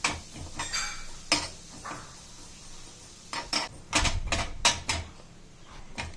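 Sesame seeds roasting in a pan for laddu give off a dry crackle of scattered popping clicks and sharp taps, with louder bursts clustering toward the end.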